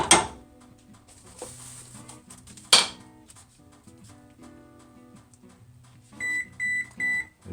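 A kitchen oven beeps three times in quick succession near the end, close and clear, after quieter clatter and handling sounds while blackberry cobbler dumplings are being prepared.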